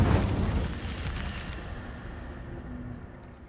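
An Incendio fire spell cast in a wizard video game opens with a loud whooshing burst that fades into a long, rumbling roar and dies away slowly.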